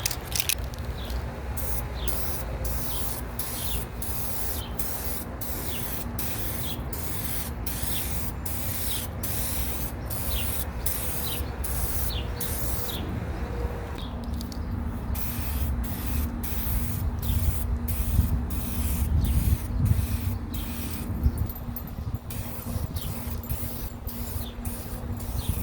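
Spray paint is applied in coats onto car headlights outdoors in hot sun, heard as a long series of short hissing bursts with a steady rhythm, close and fairly loud, with a brief pause midway.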